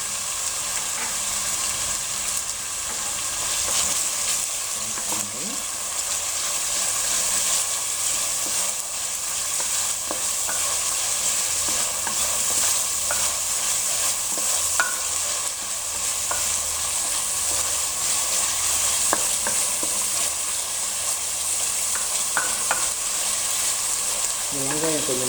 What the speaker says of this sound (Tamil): வெங்காயம் கொஞ்சம் மஞ்சளாக வர வரைக்கும் வீட்டை காய்ச்சிட்டே இருங்க.